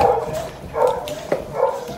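Dogs bark in short, loud bursts nearby, about four barks spaced roughly half a second apart, with a faint whine between them.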